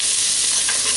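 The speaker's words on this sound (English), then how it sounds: "As you can hear, it started to sizzle, so it's cooking already." Steady, dense sizzling of soup vegetables frying in hot oil in a pot set to stew, a continuous loud crackle with no talking.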